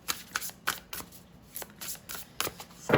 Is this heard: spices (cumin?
no